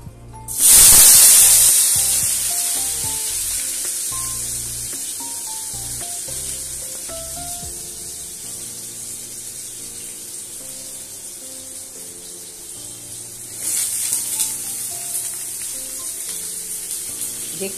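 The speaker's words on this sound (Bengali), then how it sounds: "এবার আমি আলুগুলো দেবো।" Potatoes dropped into hot oil after paneer burst into a loud, sharp sizzle that fades to a steady frying hiss, with a second surge of sizzling partway through.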